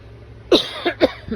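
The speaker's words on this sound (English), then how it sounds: "Excuse me for coughing." Four short, raspy coughs in quick succession, close and fairly loud, with the last one a little softer.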